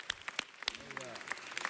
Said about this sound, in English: I think that we should give you a round of applause